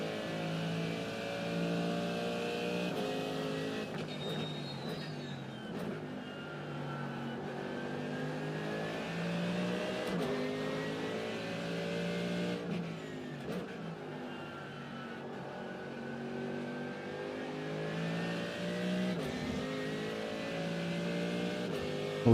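A GT3 race car engine in the iRacing sim at Watkins Glen drones and revs continuously, with harmonic pitch climbing through gears and dropping on shifts, loud and close for the whole stretch with no talk.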